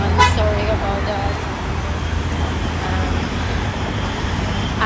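Loud, steady road traffic roar on a street in Dubai, heard while walking alongside, with passing cars and buses, a faint toot and someone talking over it.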